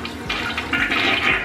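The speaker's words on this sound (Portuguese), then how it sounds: "Aí eu dou descarga." A toilet flushes during bathroom cleaning, a loud, close rush of swirling water that runs steadily through the whole moment.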